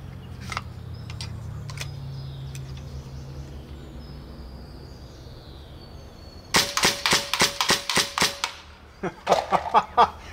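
Shots from an Evanix Max Air big-bore semi-automatic air rifle strike a can: a fast run of about seven crisp, loud reports, a short pause, then a few more quick shots, all close and over quiet outdoor background.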